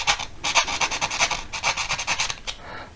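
Sandpaper rubbed over the painted metal body of a diecast NASCAR model, making quick rhythmic rasping strokes in short bursts, close and fairly loud, with no talking.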